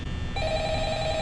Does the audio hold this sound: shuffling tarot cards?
no